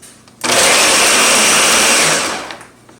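A blender whirs loudly at close range as it mixes mole sauce ingredients, the motor kicking in abruptly, holding a harsh, even roar for about two seconds, then winding down.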